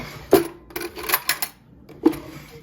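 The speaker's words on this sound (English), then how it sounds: "Mix the coffee." A spoon stirring French press coffee in a mug, sounding as a few sharp, close metallic clinks against the ceramic in two short bursts with a quiet pause between.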